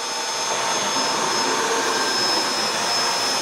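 A Yaskawa-controlled CNC machine runs with its spindle spinning, giving a steady, loud whirring hum that holds evenly throughout with no talk.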